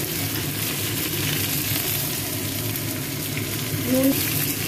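Mixed vegetables fry in a hot pan with chilli, whole spices, ginger and garam masala, giving a steady broadband sizzle with a low background hum and no speech.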